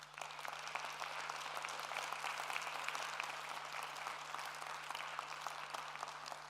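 An audience applauds successful startup teams at a Digifest event, the clapping a dense, even, continuous roar heard from a distance over a low mains hum.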